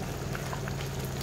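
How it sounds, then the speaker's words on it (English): A pot of spicy Nyonya candlenut chicken boils hard, a dense, continuous bubbling and popping at close range with no voices over it. "If now it's all fully boiling"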